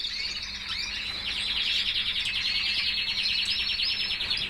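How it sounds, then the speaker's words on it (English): Red canaries chirp and trill continuously in a bright, busy chorus, close by and fairly loud, with no voices over it. "Well, they're happy canaries."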